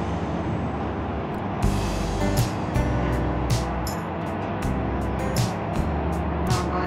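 Road traffic on a street below a flyover by a market rumbles as a continuous low engine drone, with brief louder swells of vehicles passing nearby and scattered sharp noises over it.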